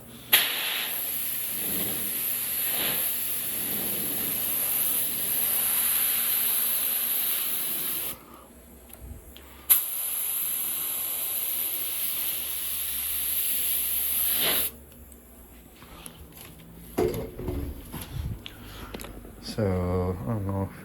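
Spray paint hissing onto a motorcycle tank over tape for a lace pattern, long continuous close bursts with short pauses between them, followed by brief handling noises near the end.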